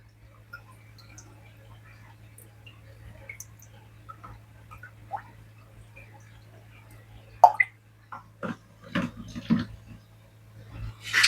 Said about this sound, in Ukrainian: Зливаємо воду з акваріуму за допомогою сифончика.